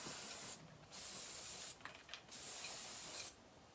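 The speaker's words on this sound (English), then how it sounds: "you might want to take some hairspray" Hairspray hisses from an aerosol can onto hair in three steady bursts with short pauses between them, close and fairly soft.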